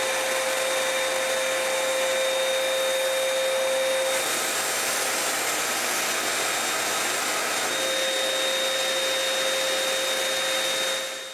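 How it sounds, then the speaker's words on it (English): A sprayer lays the first coat of water-based varnish on a stripped wooden chair, giving a steady, loud mechanical hiss and whine that runs without a break and fades out at the end. "Then I spray the first coat of varnish."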